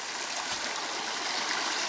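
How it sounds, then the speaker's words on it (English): Water from a creek with a waterfall just below pours in a steady, dense wash, close and continuous with no breaks, in a wooded North Carolina campsite clearing. "I heard all that noise, water noise. There's actually a waterfall below me."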